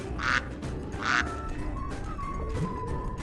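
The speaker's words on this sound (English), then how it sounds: "Ducks, little ducks." Little ducks quack in a few loud, nasal calls up close, two strong quacks early then softer ones trailing off.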